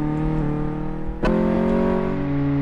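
A steady car engine in a car mechanic video game drones at an even pitch on a test track, with a brief sharp transient midway before the hum resumes slightly louder; no voices.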